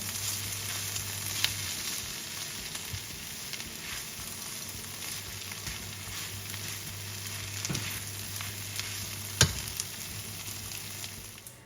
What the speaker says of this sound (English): add some minced garlic to it and let it cook for another 2 minutes